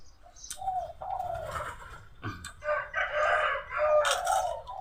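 Chickens feeding on straw while a rooster crows close by, loud and clear, mixed with cooing and clucking from other fowl in a short, busy burst with no talking.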